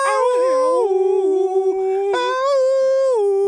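A man imitates a drawn-out howl with his voice, a long wavering cry that slides down and then rises again in a second swell, close up and loud.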